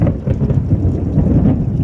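Close thunder rumbles loud and steady through a spring rainstorm over a garden, a deep continuous roll with rain falling throughout and no voices.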